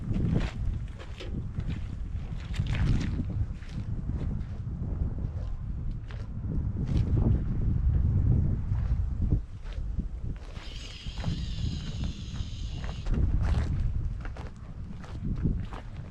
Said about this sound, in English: I am dealing with a little bit of wind.